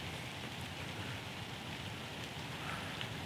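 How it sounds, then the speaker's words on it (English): Steady rain falls on a Texas public-land hunting spot in a national forest, a soft continuous patter of drops on leaves and surfaces, faint and even with no voices. "Still sort of raining, but"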